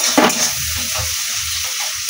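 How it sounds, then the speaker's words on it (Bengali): Onions and salt fry in oil with a loud, close crackling sizzle while a utensil stirs them, giving a brief scrape at the start over a steady hiss. "দিয়ে পেঁয়াজে আর নুনে ভালো করে তেলের সাথে নেড়ে চেড়ে নেবো ভালো করে"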